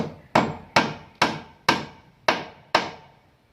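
Six sharp hammer blows drive nails through gypsum board into a wooden frame, evenly spaced, close and loud, each ringing briefly before the next.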